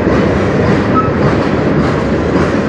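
A CN manifest freight train hauled by three locomotives rolls past on the Strathroy Subdivision, a loud, steady rumble of wheels and railcars with faint clickety-clack throughout.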